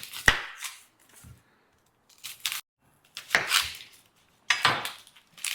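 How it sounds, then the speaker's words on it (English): A knife chops through an onion in short bursts of crisp cuts against a board, separated by brief quiet pauses, close up. "first we're just going to cut up our onion. I'm going to dice it."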